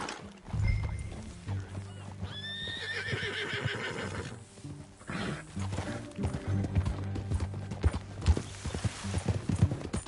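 In the video game Red Dead Redemption 2, hooves clip-clop steadily as a horse is ridden along, with a horse whinnying early on and some rustling and thuds in the background.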